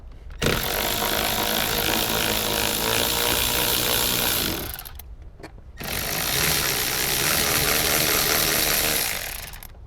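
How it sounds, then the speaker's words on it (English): A power tool, likely an electric impact driver or ratchet, loosening two 14mm seat bolts in a Toyota Tacoma, running in two long continuous whirring bursts with a short pause between. "Now we have two 14mm bolts that we're going to take out."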